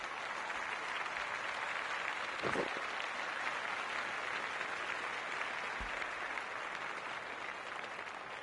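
Crowd noise in the cricket video game Cricket 24, a continuous distant roar of applause and cheering from a stadium crowd, steady throughout with a couple of brief thuds.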